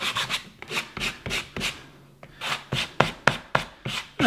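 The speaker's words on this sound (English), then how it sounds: "Nice and gently like this, sand, sand, sand." A model kit part from a monster character building kit being hand-sanded with the grain, giving a run of close, rhythmic rasping strokes with a brief pause midway before the strokes resume, no talking.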